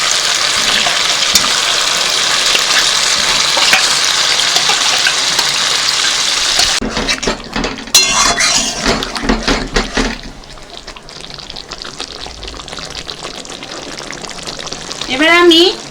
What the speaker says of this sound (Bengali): এবার আমি দিয়ে দেব ম্যারিনেট করা ফুলকপি।